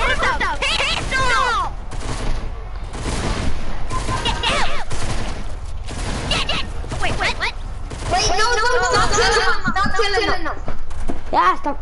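Pistol and rapid gunfire in a multiplayer shooter game, sharp bursts of shots repeating close and loud in clusters, mixed with excited voices talking and shouting over the firing.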